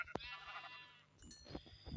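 Sheep bleat in a survival video game: a short sharp call near the start, then a longer harmonic bleat, with fainter game sounds and another brief call near the end.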